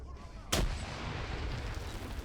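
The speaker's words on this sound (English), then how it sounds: "And then with another follow-up grenade." A grenade launcher round explodes in a trench warfare close-quarters video game, heard as one sharp loud blast followed by a rumbling decay over faint background noise.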